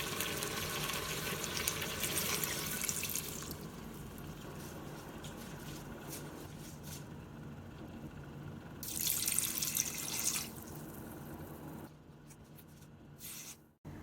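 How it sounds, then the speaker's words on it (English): Beef broth pours from a container into an Instant Pot, making a soft, close trickling and splashing stream that swells in two bursts with quieter gaps and a few drips near the end. "Next, add 2 cups of beef broth."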